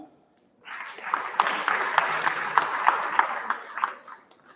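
A crowd at a girls' school inter-house competition bursts into applause after a brief quiet, a few seconds of moderately loud, fairly dense clapping with some sharper individual claps standing out.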